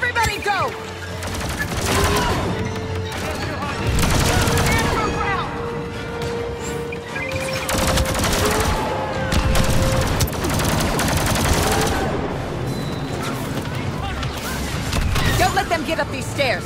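Blaster gunfire from Star Wars Battlefront 2, rapid overlapping volleys of shots in repeated bursts through a loud battle near a gate, with voices shouting over it.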